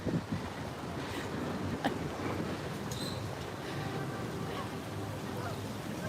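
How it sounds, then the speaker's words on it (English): Strong wind buffets the microphone in a steady, roaring rush on a city street in Mount Vernon, Baltimore, with occasional harder gusts thumping through over several seconds. "here comes the wind again. It really is impeding my walking, and I'm sure, unfortunately, it's terrible audio for you"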